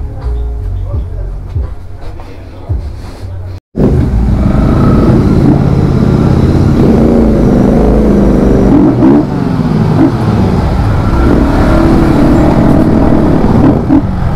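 A Royal Enfield GT650 motorcycle's engine rumbles loudly and steadily close by, with revs rising and falling, after a brief quieter stretch with a sharp break.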